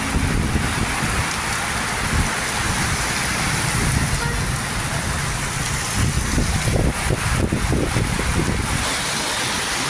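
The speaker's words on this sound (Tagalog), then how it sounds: "ingat kayo ingat ingat at napakalakas ng ulan" Torrential rain in the Philippines roars continuously up close, a dense wash of drops pounding surfaces with gusty surges and low rumbling beneath.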